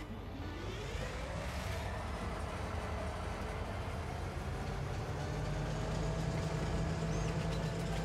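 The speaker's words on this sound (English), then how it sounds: "Oh, look, there's a train." A rented train rolls along in Farming Simulator 22, a steady loud rumble with a rising tonal whine and a sustained hum, with no one talking over it.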